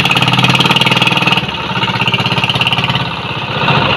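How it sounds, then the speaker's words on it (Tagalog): A fishing boat engine on Laguna de Bay chugs loudly and close by, a rapid rhythmic pulsing that shifts slightly in pitch partway through and keeps running steadily. "Malakas pa pala makina mo, hindi pa umuusok eh."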